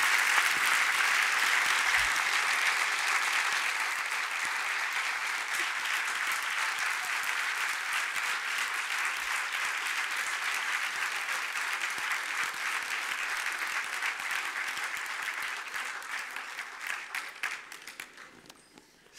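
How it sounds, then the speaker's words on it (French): A large audience applauds at length after a speech by an anthropologist, dense steady clapping that holds for many seconds and then thins out and fades near the end. "C'est forcément très difficile de savoir quelle langue parlent les applaudissements qui vous étaient adressés à l'instant."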